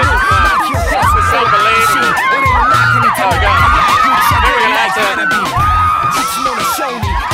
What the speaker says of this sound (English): It's time to send in the screaming girls.